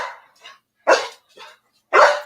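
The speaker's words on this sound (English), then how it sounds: "Who's got a doggy there?" A dog gives three loud, close barks spaced about a second apart. Softer yips fall between them against otherwise silent surroundings.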